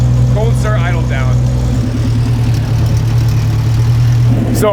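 A car engine idles low and steady after a cold start at a car meet, a constant hum with harmonic drone throughout, while people talk nearby in the background.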